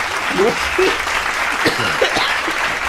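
A small group claps briefly for a point made during a basketball reaction show, a few scattered, uneven claps heard up close over a low background hum.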